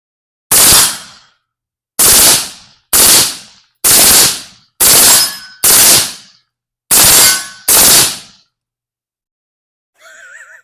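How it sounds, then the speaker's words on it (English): Eight .44 Magnum rounds fired one after another into a BulletSafe bulletproof vest, each a loud sharp crack with a metallic ring and quick decay, spaced about a second apart; a faint bird-like chirp follows after the last shot. "I decided to let Miller put a couple rounds into it."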